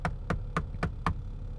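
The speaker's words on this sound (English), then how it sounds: "Knock on the door." Five evenly spaced, sharp knocks on a door, close and distinct, each a crisp rap in a steady rhythm, with no talking.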